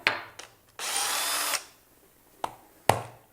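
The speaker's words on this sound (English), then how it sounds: "quick drill operation" A power drill bores a hole in a wooden tong handle for turned barbecue tools, whirring in one steady burst of under a second, with a few sharp knocks and clicks of handling around it, close up.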